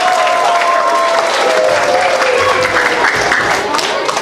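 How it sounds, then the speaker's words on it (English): A crowd at a school career day claps loudly for an FDNY firefighter, a dense continuous round of applause with some scattered cheering and voices mixed in. "Give him a round of applause."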